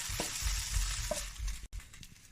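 Golden-browned chicken pieces hiss and sizzle loudly in hot fat after being tipped into a pot, with a brief stirring scrape and a short clatter near the end.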